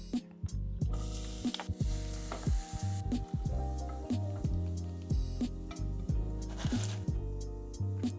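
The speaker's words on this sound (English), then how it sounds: "To cook it, warm a little oil with garlic on low heat." Garlic sizzling in a little warm oil over low heat, a steady crackling fry broken by repeated stirring scrapes and clinks of a utensil against the pan, with no talk.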